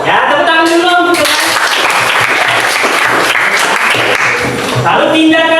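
Audience applause in a classroom lesson, loud dense clapping filling the whole stretch, with a voice heard briefly at the start and end.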